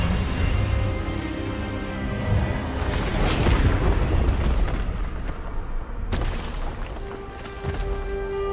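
Expelliarmus spell impact in the Hogwarts Legacy video game: a loud, sustained booming blast with a rumbling roar that swells midway, then a sharp crack near the end followed by a lingering hum.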